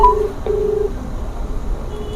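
A short burst of telephone keypad tones, two quick beeps as a number is dialed, followed by quiet line hiss.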